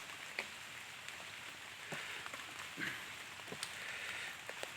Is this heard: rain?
yes